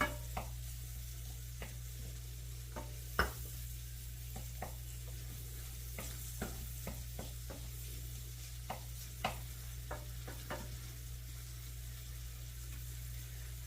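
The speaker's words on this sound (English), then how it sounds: "The butter's almost melted. I'll get my mushrooms in here." Mushrooms sizzling in melted butter in a pan: a soft, steady sizzle with scattered crackles, pops and stirring clicks, over a low electrical hum.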